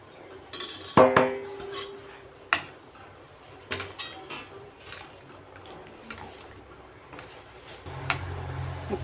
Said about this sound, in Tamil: இப்போ ரவையை கொட்டிக்கிட்டே நம்ம கிளறிட்டு இருக்கணும்.